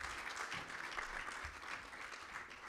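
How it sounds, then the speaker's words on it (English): An audience at the ICEA Lion annuity plan launch applauds Mrs. Enoga with faint, distant, steady clapping that carries on at a low, even level throughout. "A round of applause to Mrs. Enoga"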